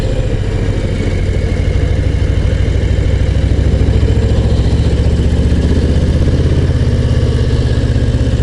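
Harley-Davidson Low Rider ST "Fast Johnnie" V-twin motorcycle engine running steadily, a loud, continuous low rumble with a pulsing, even beat throughout, close by and alone without talk.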